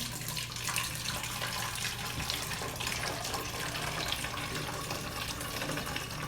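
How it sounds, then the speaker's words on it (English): Bleach water is poured slowly through a funnel into a bottle, a continuous trickling, splashing flow that stays close and fairly quiet throughout. "Now I'm going to pour my bleach water into my bottle."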